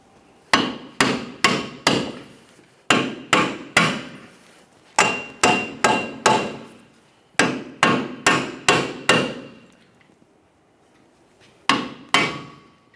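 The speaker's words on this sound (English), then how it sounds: "To remove the wheel bearing, we can do this using a hammer. We're going to start tapping on this" Hammer blows driving a rear wheel bearing out of the steering knuckle on a 2012-2015 Honda Civic: loud, close metallic strikes in quick bursts of three to five, with short pauses between groups and no talk.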